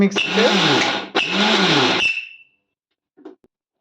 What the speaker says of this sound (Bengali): মিক্সিতে আবার গ্রেট করে নেওয়া হচ্ছে